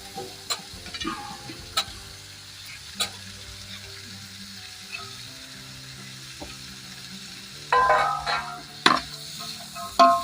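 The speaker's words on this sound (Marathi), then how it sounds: "आता बटाटे टाकून घेणार." Potatoes tipped into a hot pan with beans already cooking for a Bhogi mixed-vegetable dish, giving a quiet steady sizzle with sparse spoon clicks, then a louder burst of frying and stirring near the end.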